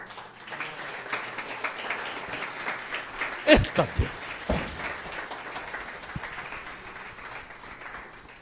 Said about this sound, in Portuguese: É um aplauso a Jesus.